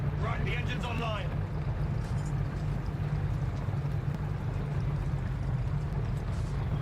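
A War Thunder tank engine drones in a steady low rumble throughout, with a brief burst of voice early on over the running motor.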